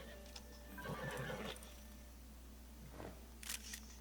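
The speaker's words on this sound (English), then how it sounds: "That's a big ass white horse." A white horse in Zelda: Tears of the Kingdom gives a short, fairly quiet whinny, followed by light hoof clip-clops and a brief camera-shutter click.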